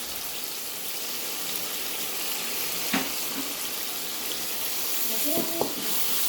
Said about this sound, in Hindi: ये अब अच्छी तरह भूनेंगे।